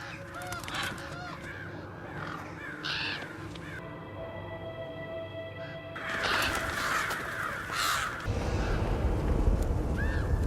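Ravens in a Game of Thrones scene: loud, harsh overlapping caws from a large flock, dense and continuous over a rumbling dramatic soundtrack, growing busier toward the end, with no clear talking.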